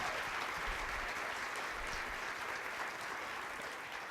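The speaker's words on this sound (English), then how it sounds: "Let's please clap it up." Steady applause from an audience at a Martin Luther King, Jr. birthday celebration, a dense wash of clapping held at an even level for several seconds with no voices on top.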